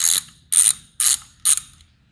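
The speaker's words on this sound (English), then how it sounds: "And then you're going to want to use the 10 millimeter ratchet. Make sure it's on loosen." A 10 millimeter ratchet loosens a bolt on a 2008 Subaru Outback XT, four crisp, evenly spaced clicking bursts about half a second apart, close and loud with no talking.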